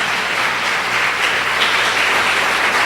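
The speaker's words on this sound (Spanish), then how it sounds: "Queremos que demos un aplauso a todos los que nos ven por televisión." A church congregation claps together during a televised service, a short burst of full, even applause filling the room with no voices on top.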